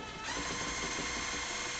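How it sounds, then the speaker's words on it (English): Power drill boring a hole through a metal pump cover, a steady whirring grind that starts abruptly and runs continuously, close and alone. "We take a drill, and you drill a hole"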